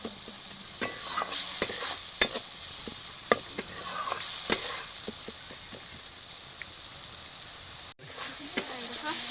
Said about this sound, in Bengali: মশলাটা একদম ভালোভাবে ভাজা গেছে। তো এখানে আমি টমেটো দিয়ে নিয়েছি।